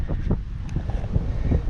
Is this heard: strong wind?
yes